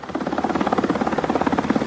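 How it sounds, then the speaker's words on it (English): A helicopter's rotor beats in a fast, steady thump-thump rhythm, loud and continuous, with no speech over it. "It's hard to see, but there's a helicopter right there on this building."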